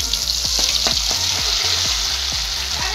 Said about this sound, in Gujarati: થઈ ગયું ગરમ એમાં હવે નાખી દઈએ થોડું જીરું